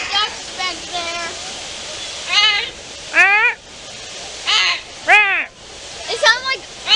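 Macaw parrots squawk in a string of loud, harsh, rising-and-falling calls close by at Animal Kingdom, with running water rushing steadily behind them.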